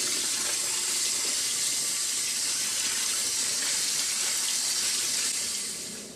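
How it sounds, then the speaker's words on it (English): Rice being rinsed under a running kitchen tap: a steady, loud hiss of water pouring into the sink, unbroken throughout and fading slightly at the very end, with no talking. "When the water runs clear, the rice has been rinsed."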